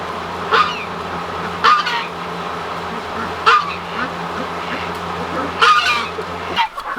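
A guard goose honks while being offered microgreens as a treat among chickens, giving about four loud, nasal honks spaced a second or more apart over quiet farmyard background.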